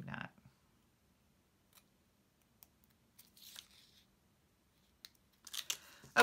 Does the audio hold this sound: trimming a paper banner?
yes